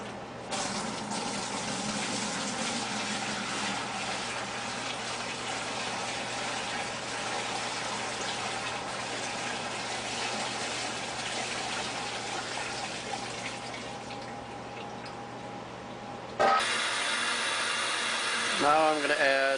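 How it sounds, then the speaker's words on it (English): Water pours steadily into a fermentation bucket of beer wort as it is topped up to five gallons, a continuous gushing fill that shifts to a brighter splash near the end. "we're going to add 3 gallons of water until we have 5 gallons"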